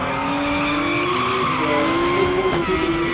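Drift cars at a team drift event skid with loud, continuous tire squeal and revving engines, a sustained screech close by with no talk.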